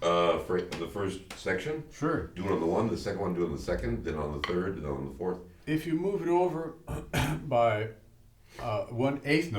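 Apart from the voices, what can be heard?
No distinct noise like a dog, phone or traffic.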